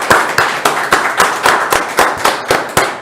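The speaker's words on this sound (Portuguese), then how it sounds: "Vamos aplaudir a Marina de 15 e de 55 anos." Studio audience applause for Marina, a 15-year-old socio-environmental activist, at the close of a podcast: steady rhythmic clapping with sharp repeated claps, fairly close and loud, with no talking over it.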